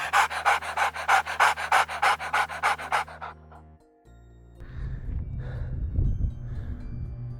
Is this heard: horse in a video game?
no